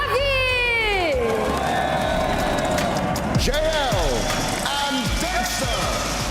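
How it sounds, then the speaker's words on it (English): A Brazilian crowd roars and cheers continuously as the teams Heroic and Navi are welcomed at an esports event, with a loud announcer's voice shouting over the noise. "Vamos fazer muito barulho para receber Heroic e Navi!"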